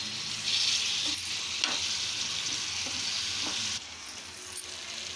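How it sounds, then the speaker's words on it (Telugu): Tomatoes sizzle in a pan with fried onions and green chillies, a steady broadband frying hiss with a few soft stirring clicks, no voices. "ఈ టమాటా కూడా వేసేసుకోవాలి. టమాటా కూడా బాగా వేగనివ్వాలి."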